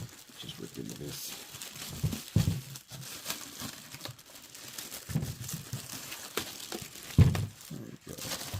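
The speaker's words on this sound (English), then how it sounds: "Just rip into this." Packaging around a cheap passive bookshelf speaker is ripped open, giving close, loud bursts of crinkling and tearing with rustling in between.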